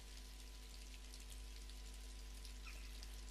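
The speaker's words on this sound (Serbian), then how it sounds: "Ako napolju pljušti" Steady, dense rainfall patters continuously on surfaces, a constant hiss of drops with a low hum underneath and no voices.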